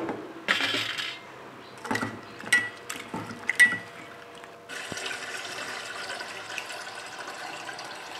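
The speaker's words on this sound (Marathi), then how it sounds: "त्यानंतर आपण रेस्ट करायला ठेवलेली कारली धुवून घेऊया स्वच्छ अजून" Bitter gourd pieces are washed in water in a home kitchen, starting with a few close clinks and splashy knocks and then settling into a steady wash of running, sloshing water.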